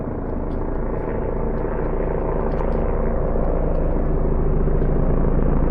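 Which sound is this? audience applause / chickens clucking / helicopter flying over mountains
helicopter flying over mountains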